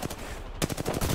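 Rapid automatic gunfire from a video game rattles out in quick, dense bursts, loud and close over a short stretch.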